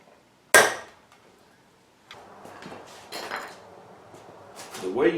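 Center punching steel for a filet knife, one sharp metallic strike, followed by faint scrapes and handling noises of the metalwork.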